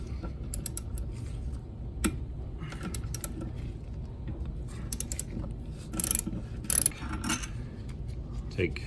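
Ratchet clicks and creaks from loosening valve cover bolts on the rear cover of a 2006 Ford Fusion 3.0 V6, short bursts of mechanical ratcheting close up with brief sharper clicks near the end.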